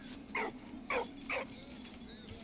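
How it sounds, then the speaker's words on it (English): A medic dog in the World War I game Valiant Hearts gives three quick, mid-pitched barks spaced about half a second apart, fairly close and clear over a low steady background hum. "So that's a medic with his medic dog."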